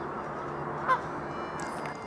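A Canada goose gives a single short honk, faint and somewhat distant, over a quiet, steady outdoor background.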